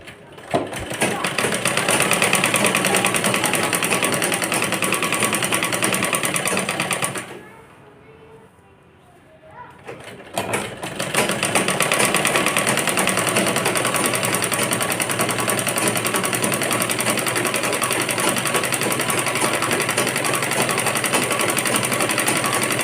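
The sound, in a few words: sewing machine stitching around a skirt hem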